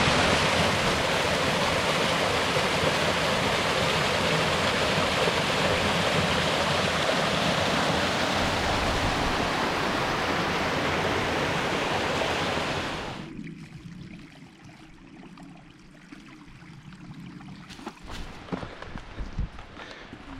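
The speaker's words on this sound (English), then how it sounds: "that is a really awesome waterfall. Sneaks right through the little cut in the rocks." Waterfall at Sheepskin Hollow, Connecticut, rushing through a narrow cut in the rocks, a loud steady roar that drops away abruptly after about thirteen seconds, leaving faint outdoor ambience with small rustles.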